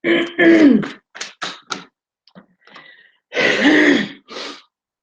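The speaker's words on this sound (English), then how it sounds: "I'm getting a really chesty cough" Someone nearby lets out a run of rough, throaty coughs and throat-clearing sounds, in bursts separated by short pauses.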